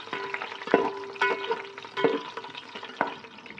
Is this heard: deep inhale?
no